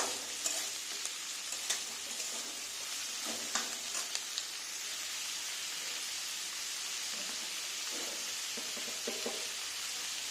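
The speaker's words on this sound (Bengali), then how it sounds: "এবার এটাকে খানিকক্ষণ আমি নাড়তে থাকবো।" A spicy semolina dish is being fried and stirred in a pan: a continuous soft hiss of sizzling runs throughout, broken by occasional light scrapes and clinks of the stirring spoon.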